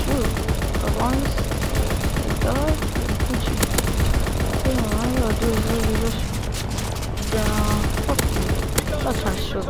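Sustained gunfire in the video game Call of Duty WWII, dense rapid shots and bursts layered over game noise, with a player talking throughout.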